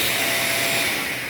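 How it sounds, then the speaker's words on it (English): Vacuum cleaner sucking up renovation dust after tile and stone work in a bathroom remodel, a steady loud airy whine with no break, close to the microphone. "and vacuum the dust."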